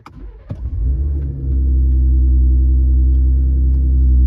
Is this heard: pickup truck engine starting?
yes